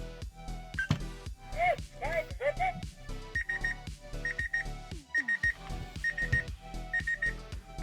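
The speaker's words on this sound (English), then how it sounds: "So there's the alarm" A Science Museum robot money bank sounds its alarm: a repeating pattern of short electronic beeps and chirping tones in bursts, close and fairly quiet, with a few clicks between them.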